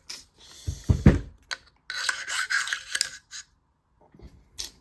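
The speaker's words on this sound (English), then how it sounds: "let's throw these back in this upper receiver here and see how she feels" Metal parts of a 9mm pistol-caliber carbine being handled as the bolt carrier is slid back into the upper receiver: a few close clicks and thumps, then bursts of scraping and rubbing metal, with short quiet gaps.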